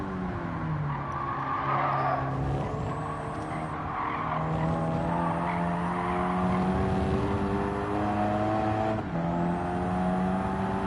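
A race car in the Gran Turismo 7 game braking hard, engine tones dropping and shifting while tires squeal and skid continuously, loud and steady throughout.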